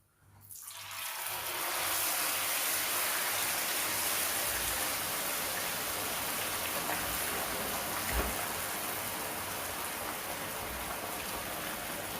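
A second piece of fish drops into hot frying oil and a loud, close sizzle bursts up, then holds as a dense, steady crackling hiss.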